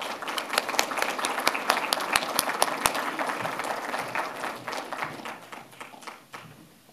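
An audience at a university open access symposium applauds to welcome a speaker, a steady burst of clapping in a room that thins out and fades toward the end.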